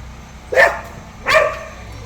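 A nearby dog gives two loud, clear barks roughly three-quarters of a second apart, each short and sharp, against a quiet low background.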